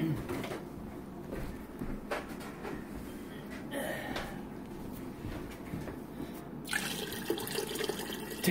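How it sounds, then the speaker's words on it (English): Water pours steadily into a pot of pork shoulder bones for bone broth, a continuous splashing rush punctuated by a few clunks and knocks, close by. "You're going to pour the water in"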